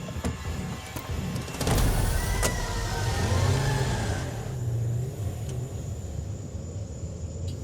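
A car engine starts up with a revving surge, then settles into a steady rumble as the vehicle pulls away, loud and close at first and easing off toward the end.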